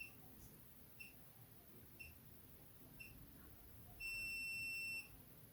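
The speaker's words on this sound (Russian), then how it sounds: "Слышите, пикает. Он сейчас выключится." A YAOREA YR-1035+ battery tester gives several short, faint beeps about a second apart, then one longer steady tone as it switches off, all against a quiet background hiss.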